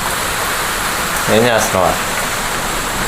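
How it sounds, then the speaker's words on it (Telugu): Heavy rain falling outside, a steady dense hiss throughout, with a brief spoken question over it. "బయట చూడండి వాన ఎట పడుతున్నా"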